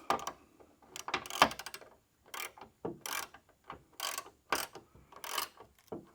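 Ratchet wrench snugging a bolt on a light mount of a full-size Chevy or GMC truck, quick close bursts of clicking strokes with short pauses between them.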